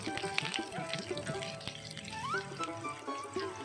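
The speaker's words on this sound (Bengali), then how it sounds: "কড়াতে তেল গরম হয়ে গেলে তার মধ্যে আলুগুলোকে দিয়ে আলুগুলোকে ভালোভাবে ভেজে নেওয়া" Potatoes fry in hot mustard oil in a wok, giving a steady, close crackling sizzle with scattered splatter pops throughout.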